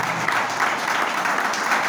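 A church congregation applauds steadily, a dense wash of clapping that continues without a break.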